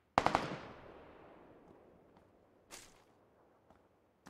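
Gunfire from the video game PUBG: a sharp burst of three rapid shots rings out and echoes away, followed by a fainter, more distant shot, with a few quiet ticks afterward and no talk.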